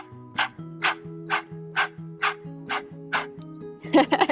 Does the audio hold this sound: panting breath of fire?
yes